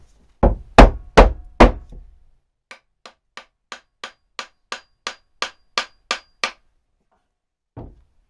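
An axe head is tapped down onto its wooden handle: four heavy knocks first, then about a dozen lighter, evenly spaced taps, and one last dull knock after a pause, all close and clear with no talking.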